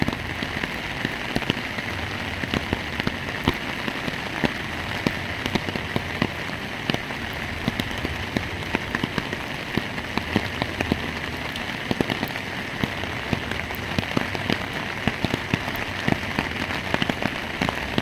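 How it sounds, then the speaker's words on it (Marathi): Heavy torrential monsoon rain in Nashik pours down steadily and loudly, drumming on surfaces with dense, constant patter throughout, no voices. "खूप जोरदार मुसळधार असा पाऊस जो आहे तो सुरू झालेला आहे"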